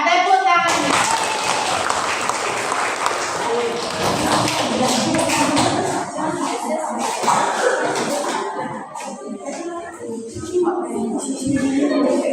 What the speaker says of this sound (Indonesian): Dan tepuk tangannya